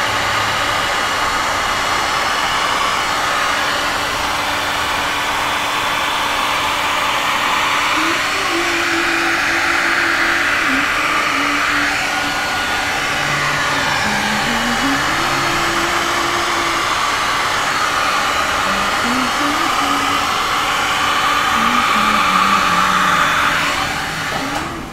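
A heat gun blowing hot air over a resin puddle pour in a colander craft setup, a loud steady whooshing hiss with a shifting motor whine, continuous throughout with no talk.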